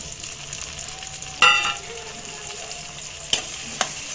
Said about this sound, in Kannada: ನೀರುಳ್ಳಿ ಫ್ರೈ ಆಗಿತ್ತೆ